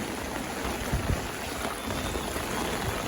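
Steady, dense rain pours continuously, a close hiss of drops hitting surfaces with no voices.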